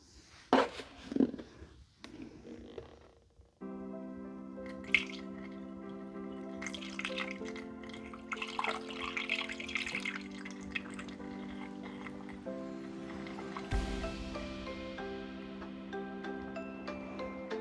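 Vinegar poured into a container for homemade scented vinegar, a steady close trickling stream with a gently shifting ringing tone, after a few brief knocks and clinks at the start.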